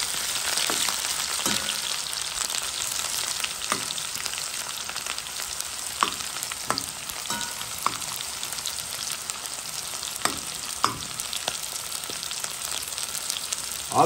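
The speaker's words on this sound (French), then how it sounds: "Je roussis mes oignons." Onions browning in hot oil for a rougail of pâté de foie give a steady, dense sizzle throughout, broken by occasional sharp clinks and scrapes of a utensil against the pot.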